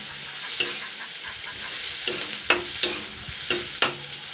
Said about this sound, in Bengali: এবার আমি কাঁচা কুচানো পেঁয়াজগুলো দিয়ে দিচ্ছি